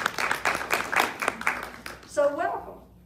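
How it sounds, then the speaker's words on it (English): A church congregation claps for the musicians, quick bright bursts of applause that fade away while a voice speaks over them, ending with a brief sung or spoken tone. "Another round of applause for our musicians."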